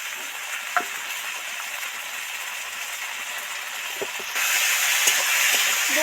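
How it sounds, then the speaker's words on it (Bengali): Spices and ginger paste sizzle steadily in hot oil with a few faint clicks, the hiss swelling noticeably louder about two-thirds of the way through. "মিনিট ভালো করে তেলের সাথে ভাজতে থাকবো"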